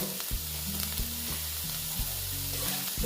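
Soybean chunks and potatoes for a soybean-potato curry sizzle and fry steadily in a pan, with occasional stirring scrapes and low hum underneath, close and continuous throughout.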